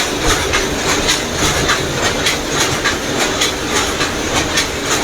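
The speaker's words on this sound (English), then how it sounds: "It's a power loom process." A power loom weaving thread at a weavers' workshop clatters in a fast, regular mechanical rhythm of repeated sharp clacks over a constant loud machine rumble.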